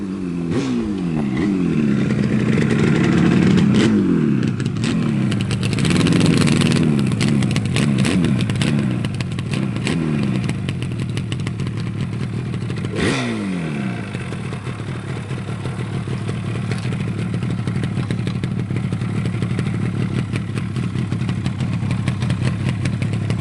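A 1975 Yamaha RD350B two-stroke motorcycle with reed valve induction is revved and left to idle close by. Loud, crackling bursts of revving rise and fall, then settle into a steady burbling idle, with no talking.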